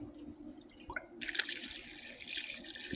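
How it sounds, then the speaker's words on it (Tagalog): Water pours from a tap into a cooking pot holding meat with onion and cinnamon stick, starting with a few faint drips and then a steady, bright splashing stream. "Tapos lagyan ko na rin siya ng tubig."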